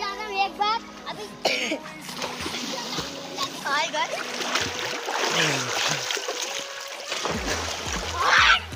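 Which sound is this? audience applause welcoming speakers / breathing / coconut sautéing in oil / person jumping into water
person jumping into water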